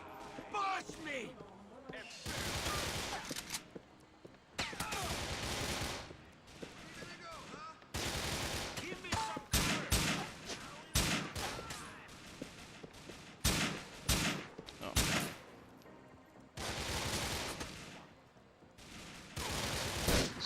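Rifle gunfire in the video game Grand Theft Auto IV crackles in loud, repeated bursts of rapid shots separated by short pauses, with someone talking over the action.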